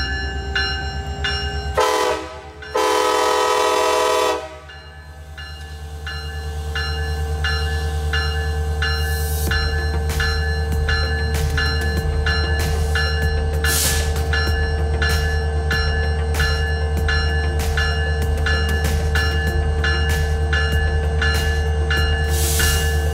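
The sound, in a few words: train passing near Talkeetna, Alaska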